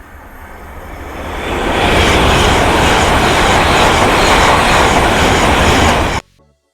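A high-speed passenger train on the London King's Cross service from Edinburgh Waverley roars through Thirsk station, swelling from a distant rumble to a loud, steady rushing blast before cutting off sharply.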